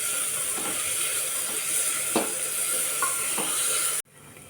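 Onion with ginger-garlic paste sizzles steadily in a pan while being browned for spinach-potato khichdi, with a few stirring scrapes and clicks, close and continuous until it cuts off abruptly near the end.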